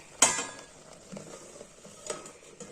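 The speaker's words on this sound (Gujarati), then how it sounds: "આ રીતે વચ્ચે આપણે એકવાર હલાવી લેવાની છે આ રીતે જેથી ઉપર નીચે થઈ જશે" Wheat flour for Gujarati lapsi being stirred as it dry-roasts in a pan, heard as a few soft scraping strokes, the first one sharp and close, with faint clinks of utensil on metal and no talking.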